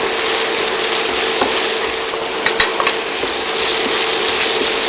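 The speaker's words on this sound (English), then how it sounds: "once our garlic's brown, then we're gonna add our onion." Garlic browns in hot oil for pineapple chicken adobo, with onion about to go in: a loud, continuous close-up sizzle broken by a few brief clinks of a utensil.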